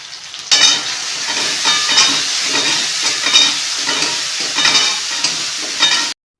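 Masala with salt and turmeric is stir-fried for crab curry, loud close sizzling broken by repeated scraping stirring strokes, then it cuts off sharply.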